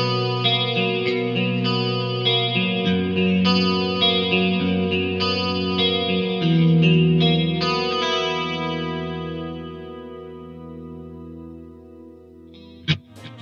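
Electric guitar through a Fractal Audio Axe FX3 and Mesa Boogie JP2C amp, played as a melodic phrase with chorus, echo and mild distortion, sustained notes ringing out and fading, ending with a brief sharp click.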